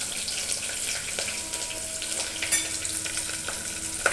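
Onions and green chilies fry in two tablespoons of oil in a pressure cooker, giving a steady, moderate sizzle with occasional small crackles and pops.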